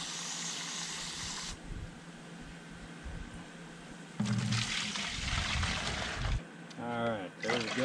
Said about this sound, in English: So I'm going to go ahead and dump the water in the bucket,